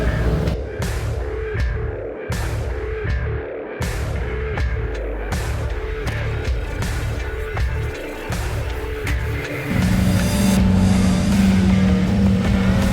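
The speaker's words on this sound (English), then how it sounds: "you're just gonna break it down with the crane" A truck-mounted crane at a tree-cutting job folds itself up with a string of knocks and clunks over a mechanical rumble, then a steady hydraulic whine takes over near the end. No one speaks.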